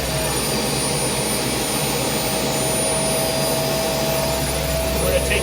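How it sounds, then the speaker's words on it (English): Military Gazelle SA342M helicopter starting up as the rotor engages, a steady, loud turbine whine and rushing roar that holds constant and close throughout. "Engage rotor. Rotor brake's coming off."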